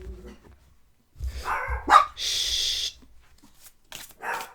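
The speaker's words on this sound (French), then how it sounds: "Il n'y a rien, Chanel, tu vois rien de toute façon, donc tu aboies pour rien." A dog barks indoors in a few sharp, loud bursts separated by brief silences, with no talking.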